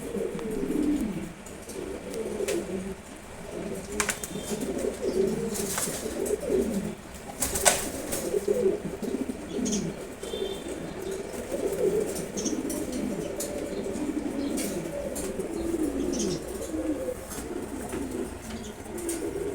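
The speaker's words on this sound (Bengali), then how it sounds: "খুব সুন্দর একটা মাদি কবুতর" Pigeons, including a red checkered hen among racers, coo in a loft with low, rolling throaty calls repeating and overlapping steadily, near and fairly clear, with occasional sharp clicks and rustles in the background.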